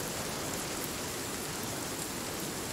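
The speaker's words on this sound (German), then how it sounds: "jetzt regnet es so laut, dass ich mir kaum meine eigene Stimme höre" Loud rain in the survival video game Sons of the Forest, a dense, constant hissing downpour filling everything evenly, with no voices or pauses.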